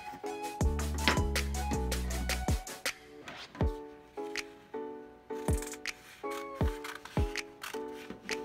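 Scissors snip through excess cardboard cut from an Amazon box, a series of crisp close cuts with short ringing tones and irregular pauses between strokes, with no voices.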